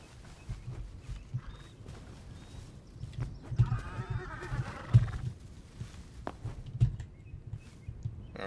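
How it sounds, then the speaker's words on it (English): A horse in the video game Hytale snorting and neighing amid scattered hoof clops and footsteps, fairly close with intermittent louder bursts over a low rumbling background. "Sneak up and get back on the horse."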